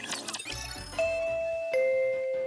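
Bell chime in the Goddess of Victory Nikke video game, two sustained ringing tones struck in succession, ding then dong, each lingering, heard after a burst of busy game sound.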